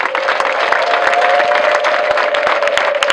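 A church congregation applauds at a choir gathering in Kigali, with loud, steady clapping from a large crowd and a faint sustained tone running beneath it throughout.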